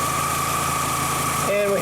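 A Volkswagen Jetta engine idles steadily after being revved, giving a continuous low hum with a tonal whine, close and fairly loud. Near the end a brief higher warbling tone comes in over it.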